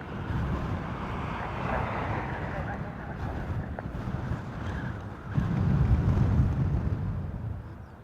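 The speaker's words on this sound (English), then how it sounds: "Now, high winds. This isn't going to be nice." Strong wind buffets a microphone outdoors at an airport, a low, rumbling roar that swells into a heavier gust partway through, with faint aircraft noise mixed beneath.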